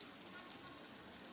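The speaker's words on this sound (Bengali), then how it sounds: "এবার পেঁয়াজটাকে একটু ভাজা ভাজা করে নেব।" Chopped onion fries in oil with a faint, even sizzle close by, steady and unbroken for its short length.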